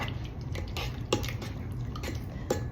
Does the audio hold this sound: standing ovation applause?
no